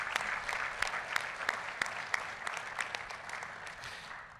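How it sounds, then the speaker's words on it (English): A round of applause at a golf association annual meeting honours Scott Gordon: a steady, moderately quiet wash of clapping from a seated audience, with a few distinct sharp claps near the front, tapering off toward the end. "If you could give Scott a round of applause for all of his hard work with everything."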